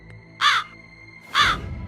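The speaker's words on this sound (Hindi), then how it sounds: "एक जख्मी कौवा उसके झरोखे पर आकर बैठ जाता है और कांव कांव करने लगता है" An injured crow gives two loud, harsh caws about a second apart, close and clear against a quiet background.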